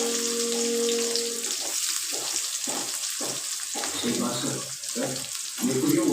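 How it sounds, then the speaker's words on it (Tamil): Sliced onions with curry leaves sautéing in a pan for egg rice, a bright sizzle broken into regular bursts as the pan is stirred, close and fairly loud with no talk over it. "நல்லா வதக்கிக்கலாம்."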